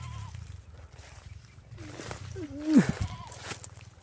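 Close, wavering goat bleats come in a short cluster midway, with quiet talking and background rustling around them.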